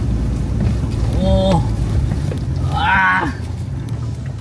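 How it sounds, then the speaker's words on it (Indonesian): Strong, gusty wind roars steadily into the microphone on an offroad overland drive under a darkening, overcast sky in Borneo, with brief voices breaking through. "Anginnya serem banget."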